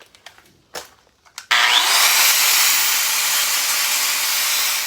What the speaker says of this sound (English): let's get to this grinding real quick and just working on this tab here